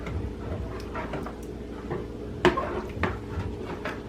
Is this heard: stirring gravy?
yes